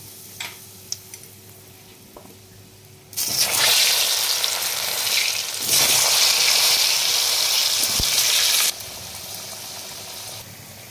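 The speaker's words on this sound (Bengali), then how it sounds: "আমি কচুগুলোকে আগে ভেজে নেবো।" Taro pieces frying in hot mustard oil, a loud broadband sizzle that erupts after a quiet start, dips briefly, surges again and then eases to a lower hiss near the end.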